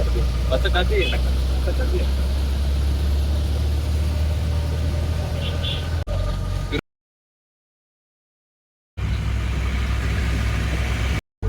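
A vehicle engine hums steadily and loudly as it climbs a hill road toward Tirupati. It breaks off once into a few seconds of silence before resuming, with voices talking faintly over it.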